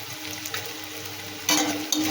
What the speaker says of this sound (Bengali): ফুলকপিগুলো দিয়ে দিলাম। ভালো করে ভেজে নিই আগে।